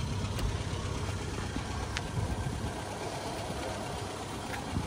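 A 1950s Fiat 1100 car engine idles with a steady, low, fairly faint rumble, with a couple of light ticks over the continuous hum.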